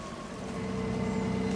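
Steady low engine drone of the ferry Northern Belle, an 82-year-old passenger vessel, running on the water, continuous and fairly near, with a brief rush of noise at the very end.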